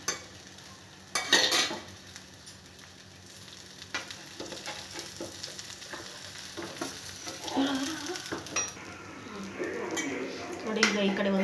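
Dosa batter cooking on a hot griddle, with soft sizzling frying noise, occasional stirring and utensil clinks against metal, and a person talking now and then over it.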